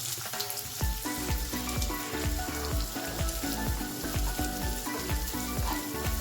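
Finely chopped onion frying in several spoons of oil with cumin, a loud, dense sizzle with rhythmic scraping stirs close up, no voices.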